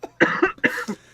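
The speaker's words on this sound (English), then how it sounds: "it's a very dry cough" Two dry, hacking coughs from a person who has just woken up, close to the microphone, each a short rough burst with no barking quality and no talk around them.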